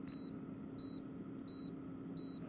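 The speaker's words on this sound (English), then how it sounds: "A little underwhelming on the beeping mechanism." An air fryer signals that cooking is done with four short, evenly spaced electronic beeps, fairly faint over a low background hum.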